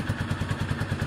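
A motorcycle engine idling while it warms up, a steady low, lumpy chug with even rhythmic pulses several times a second, fairly close and without talk.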